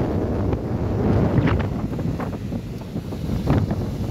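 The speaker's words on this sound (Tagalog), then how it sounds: "And sobrang malakas po yung hangin today." Strong wind blows at the Manila Bay seaside near Dolomite Beach at low tide, buffeting the microphone in a loud, continuous roar with gusty rises and falls, no voices heard.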